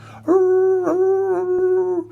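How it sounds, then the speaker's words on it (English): A single dog howls up close, a long sustained wavering cry with a slight catch midway, standing alone. "He could hear those dogs barking."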